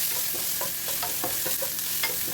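A hotdog fries in a little cooking oil in a pan, giving a steady, close sizzle with rhythmic stirring scrapes every fraction of a second, loud and continuous, with no voices.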